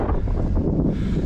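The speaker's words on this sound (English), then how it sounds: "starting to get a bit windy up here." Wind gusts on a hilltop near Brandreth and Grey Knotts, a loud low rumble buffeting the microphone in uneven surges over a short stretch, with no voices.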